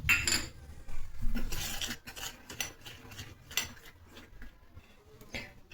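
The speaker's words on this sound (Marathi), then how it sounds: "त्यामध्ये आपण आता हे तेल मिक्स करू." Spoon scraping and clinking in a small bowl as oil is stirred into a paste of two spoonfuls of maida flour for layering chapatis, a close series of irregular metallic taps and scrapes with no talk.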